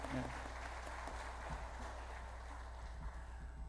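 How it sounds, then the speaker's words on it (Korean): A church congregation applauds in welcome and encouragement for an elder during a Sunday service, a steady wash of many hands clapping at even loudness throughout, fairly quiet and diffuse with faint voices mixed in. "우리 환영과 격려의 박수 함께 하도록 하겠습니다."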